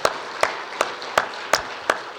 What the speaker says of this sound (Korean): 김연아 집사님들 오신 박수 한번 하시죠